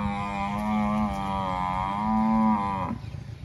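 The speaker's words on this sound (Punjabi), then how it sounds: "ਮੱਝ ਡਿੰਗਦੀ ਪਈ" A buffalo gives a single long, loud bellow near an old railway station, the drawn-out moan holding steady before breaking off, with no one speaking.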